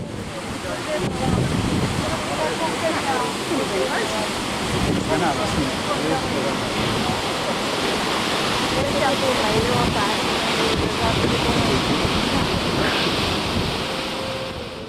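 A waterfall roars in a steady, dense wash of spray and rushing water with wind buffeting the microphone, loud and unbroken throughout, while boats approach near the falls.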